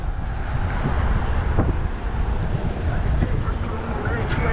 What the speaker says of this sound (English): It is windy today anyway.